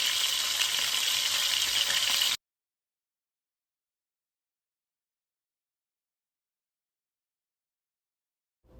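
Shish kebab skewers are laid two at a time into hot oil in a pan, producing a loud, dense sizzle that cuts off abruptly after about two seconds, followed by silence.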